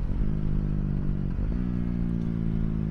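A KTM Duke 390 motorcycle engine on new tires hums steadily up close, with a brief dip and pickup in revs partway through and a smooth, even tone otherwise.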